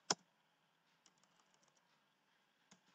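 Quiet keystrokes on a computer keyboard: one sharp click, then a short run of light taps and a final click, all faint and close in a near-silent room.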